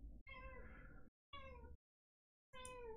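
A cat meows three times, each call drawn out and sharply tonal, close by and clear in an otherwise quiet room, with no talk over it.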